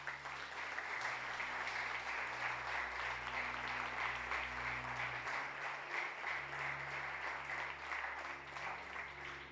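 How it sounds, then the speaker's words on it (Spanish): A church congregation applauds the Lord during a sermon, with continuous, even clapping from a crowd that holds steady throughout, over soft low sustained tones in the background. "¿Le quieres dar un aplauso al Señor?"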